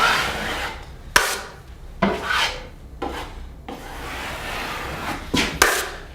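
A taping knife smoothing wrinkles out of drywall tape in a corner, heard as close, steady scraping strokes with a few sharper knocks as the blade meets the wall.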